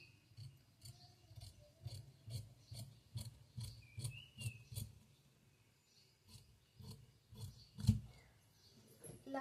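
Scissors cut through blouse fabric in a steady rhythm of close, soft rasping snips, repeating about every half second with a brief pause midway.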